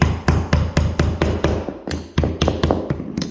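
Leftover baseboard nails tapped into a drywall wall with a hammer, giving a quick series of about a dozen sharp, close knocks in an even rhythm.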